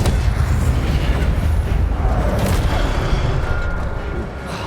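An Incendio fire spell cast in Hogwarts Legacy lets out a loud, dense rushing blast of flame, steady and booming before easing slightly at the end.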